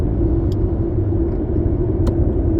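A car being driven, heard from inside the cabin as a steady low engine and road rumble that holds even throughout, with a couple of faint brief clicks and no talking.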